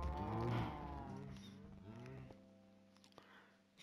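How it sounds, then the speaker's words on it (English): A Minecraft cow lets out a low, drawn-out moo, followed by quieter game sounds and a few soft clicks near the end. "Let's quickly go kill some cows."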